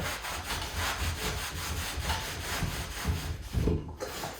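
Rhythmic back-and-forth rubbing on a wooden furniture finish during wet distressing, close and moderately quiet, with repeated strokes at a steady pace.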